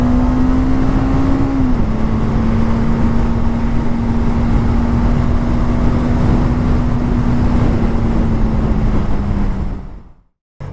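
Bajaj Dominar motorcycle cruising on a highway, loud and close, with a steady engine drone under heavy wind rush that holds a near-constant pitch, dips slightly, then cuts off abruptly near the end.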